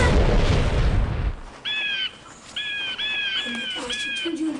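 Bird squawking in a movie scene after a magic spell: a loud burst of noise fades out, then several short, bright, repeated harsh calls follow in quick succession with faint background sound.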